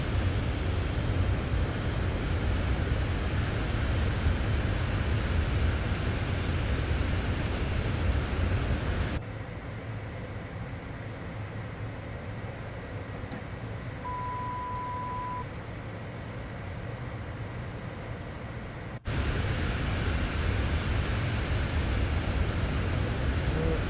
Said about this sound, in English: This can get a little bit loud. These engines.